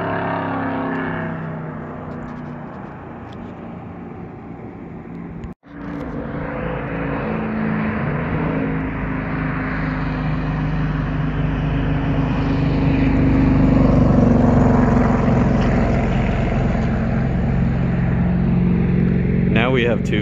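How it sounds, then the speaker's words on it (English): Race cars lap a NASCAR track, a steady engine drone from a distance that swells as a car draws nearer, with a brief dropout and a voice talking over the noise. "we have two vehicles out on the track at the same time, but they're fairly spaced out from each other"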